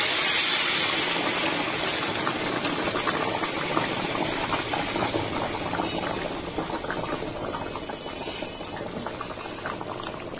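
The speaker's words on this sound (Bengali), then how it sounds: "ফুটন্ত গরম জল দিয়ে দিলাম" Boiling hot water poured into a bowl gives a loud, steady rushing gush with a hissing bubbly texture that fades slightly over about ten seconds.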